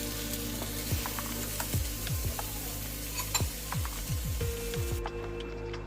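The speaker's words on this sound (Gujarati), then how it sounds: "હવે તેના પર આપણે બટર પણ લગાવી દઈશું અને તેને શેકવા દઈશું" Butter sizzling under pav buns as they toast on a preheated toaster, a soft steady crackle broken by several short scraping rubs. It sounds close and fairly quiet, with no talking.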